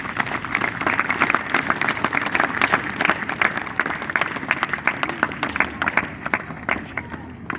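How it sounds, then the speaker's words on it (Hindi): A crowd at a school Republic Day event claps for students and teachers, dense sustained applause with some background chatter, loud and close throughout. "आप उनके लिए भी जोरदार तालियां बजाएं।"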